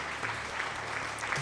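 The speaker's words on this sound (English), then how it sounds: "That deserves a round of applause." A steady round of clapping from a small group, even and continuous, with no voices over it, from the game Cities: Skylines.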